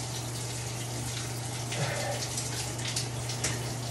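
Water in an ice bath sloshes and splashes close by, a continuous watery rush with small bursts of movement, no talking.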